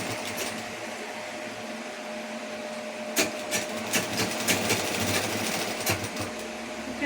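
A sewing machine stitches a blouse, running as a steady close whirr that breaks into bursts of rapid needle clatter in the second half.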